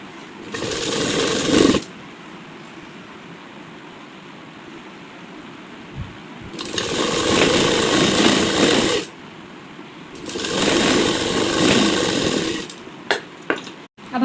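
A sewing machine stitches a baby frock in three long, loud, steady runs of rapid mechanical whirring, with quiet gaps between them and a few small clicks at the close.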